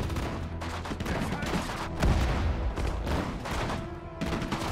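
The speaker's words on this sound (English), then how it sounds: "Like a machine gunner in a foxhole there." Machine gun fire in the Sudden Strike 4 strategy game, World War II hedgerow battle, rattling in dense continuous bursts with a heavier blast near the middle, mixed with other battlefield gunfire and faint game voices.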